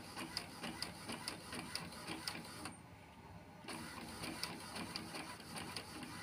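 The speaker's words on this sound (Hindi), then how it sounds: "देखिए मेरा प्रिंटर काम कर रहा है और प्रिंट होके इजीली निकल रहा है मेरा पेज" An inkjet-style home printer feeding and printing pages, with steady mechanical whirring and rapid rhythmic ticking of the print head that pauses briefly midway before resuming, close and continuous.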